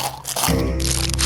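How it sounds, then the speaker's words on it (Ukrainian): Potato chips crunched while eating, close to the mic: loud, crackly crunches that swell into a dense, continuous crunch. "Де там мої чіпси? Треба швидше заїсти цей стрес."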